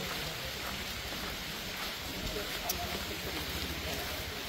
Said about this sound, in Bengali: আল্লাহ বৃষ্টি তো উঠতে আছে